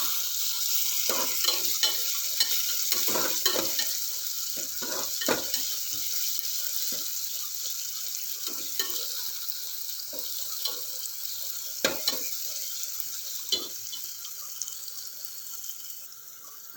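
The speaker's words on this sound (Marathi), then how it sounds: "कोथिंबीर फोडणीत परतली गेली की खिचडीला चव खूप छान येते।" Chopped coriander stirred into a hot tempering for dal khichdi, giving a steady close sizzle with scraping stir strokes throughout and no talk.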